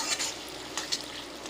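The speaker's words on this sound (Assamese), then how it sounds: "এনেদৰে আমাৰ মছলাখিনি ভাজোঁতে ভাজোঁতে তেল ওলাই গৈছেগৈ মছলাৰ পৰা" Masala spices frying in oil in a pan, a steady soft crackle and sizzle with faint stirring scrapes, close and quiet, no voices.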